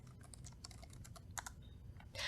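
Light, quick keystrokes on a computer keyboard typing a short command into a terminal, a brisk irregular run of soft clicks that is close and quiet with no talk.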